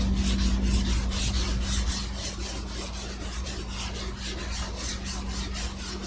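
Epoxy primer on a 1969 Mustang BOSS 302 body panel is hand-sanded in a cross-hatch pattern, producing a steady, close, rasping rub with quick rhythmic strokes that continue without a break.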